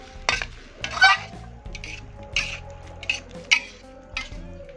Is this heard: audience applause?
no